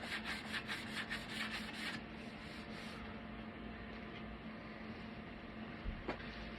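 A sanding block is worked by hand in a continuous dry, rasping rub, close and fairly quiet, with faster strokes at the start that settle into a steady scrape.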